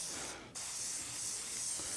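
Steady broadband hiss of an aerosol spray can laying an even coat of colour over paper, loud and continuous for the whole stretch with a brief dip near the start, no voices.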